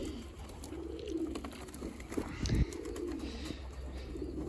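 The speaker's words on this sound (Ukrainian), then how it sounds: "бачите, значить, є молоді голубенята" Young pigeons coo softly in a pigeon loft, faint low murmuring calls with a brief flutter of movement midway, steady background noise throughout.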